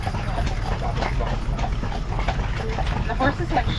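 Steel-shod horses pull a carriage uphill, their hooves clip-clopping in an irregular rhythm against a busy background, with people talking nearby.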